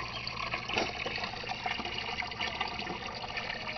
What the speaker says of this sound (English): little giant pump is pumping most of the water up and then back into the tank